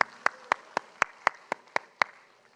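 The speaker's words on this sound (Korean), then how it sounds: "우리 성령 하나님 앞에 영광의 박수 올리겠습니다" Sharp, evenly spaced claps ring out about four per second in a church worship service, a steady rhythmic pulse of applause that sounds fairly close rather than a broad crowd wash.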